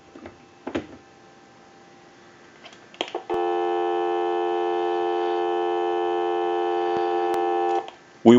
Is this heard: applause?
no